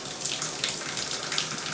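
Shower water sprays steadily onto a pet bird, a continuous close hiss of falling water with no pauses for the whole moment.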